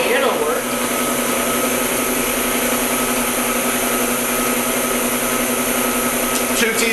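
A KitchenAid stand mixer whirs steadily as it mixes chocolate chip cookie dough, a constant motor drone with faint rattling that runs loud and unbroken throughout.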